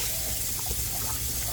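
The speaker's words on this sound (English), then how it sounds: "we are going to rinse these a couple of times" Sprouting seeds get rinsed under running water, a steady close-up gush and splash that holds without pause throughout.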